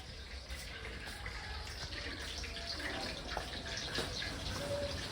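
A washing machine fills with water, a steady, soft rushing flow that continues unbroken, with faint background sounds like a distant bird.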